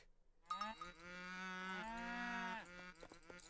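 A cow lowing in the Age of Empires III strategy game, one long harmonic moo starting after a brief pause and holding for about two seconds before trailing off, loud and close with faint game sounds around it.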